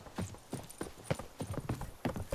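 Steady clip-clop of horse hooves trotting at a regular rhythm in The Witcher 3, close and clear, with no voices over it.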